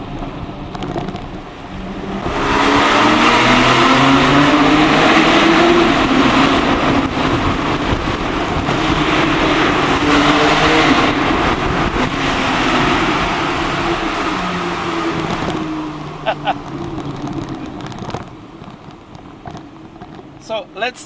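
Engine of a Porsche 991 Targa 4S driving through the streets of Monaco, a sustained close drone with shifting revs and road and wind noise, a voice speaking over it.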